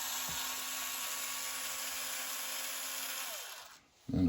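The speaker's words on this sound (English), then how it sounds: "We have to remove all of these screws holding the link arms in." A power screwdriver or drill whirs steadily to remove the screws holding the link arms on a Redcat Gen 8 RC crawler, running close and continuous for several seconds before cutting out, followed by a brief clatter.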